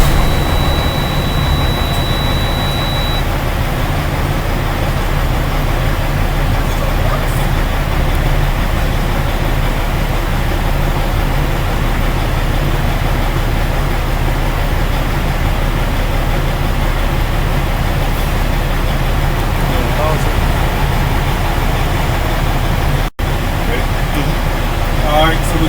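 A truck engine idles steadily while building air pressure to 100 PSI, a constant low rumble that holds without change throughout, with no clear speech over it.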